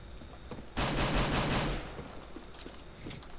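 Rapid gunfire in the shooter CS:GO, a loud, dense rattling burst of about a second standing out from quiet game background, with a few faint clicks afterward.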